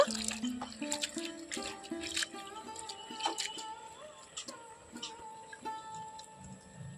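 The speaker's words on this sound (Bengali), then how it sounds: "আবারও আমি জল দিয়ে খুব ভালো করে ধুয়ে নেব" Leafy greens being washed in water by hand, with soft drips, trickles and squishy handling sounds close by, under a faint tonal background.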